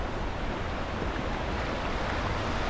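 A sudden flood surges past a riverside in a broad, constant roar of rushing water, close and loud with no break, and nobody speaks.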